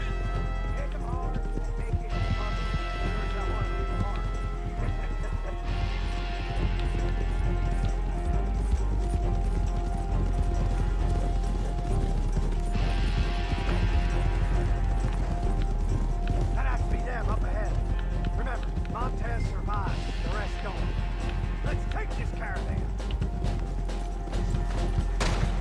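Horse hooves clip-clop and gallop in the Western video game Red Dead Online, steady and fairly close, mixed with game music and effects while people talk over it throughout.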